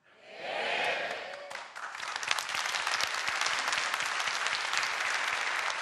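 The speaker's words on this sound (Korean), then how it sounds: "박수가 너무 많아가지고 강의 진행이 안 되니까" Lecture audience bursts into sustained applause at a Korean talk event, many hands clapping densely and loudly after a brief rising start, continuing steadily without speech.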